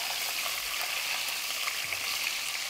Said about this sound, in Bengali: নেড়েচেড়ে ডিমগুলোকে ভেজে নিতে হবে।